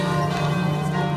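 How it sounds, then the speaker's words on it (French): Church bells ringing steadily in the background, a sustained metallic tone with no speech over it. "Qu'est-ce que c'est que ces cloches ?"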